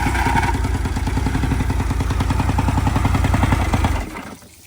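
A newly installed boat outboard motor starts and runs with a loud, steady, rapid chugging idle for about four seconds, then cuts out abruptly and falls almost silent.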